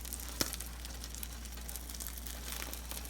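Eggs with pepper jack cheese fry in a pan, a soft steady sizzle and crackle running throughout, with one sharp tap or pop near the start and no talking.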